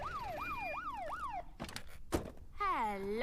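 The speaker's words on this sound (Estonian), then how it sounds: "Siit tulebki politseiauto." A cartoon police car siren from Peppa Pig wails in repeated rising and falling sweeps. It breaks off into a few brief thumps, then a new wavering electronic tone comes in, loud and alone.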